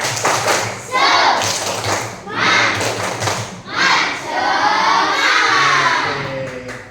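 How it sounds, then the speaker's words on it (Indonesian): Classroom students perform a rhythmic Indonesian spirit clap, tepuk semangat, in bursts of patterned clapping mixed with children's chanting and shouting voices, loud and close, with brief pauses between phrases. "Coba tepuk semangat."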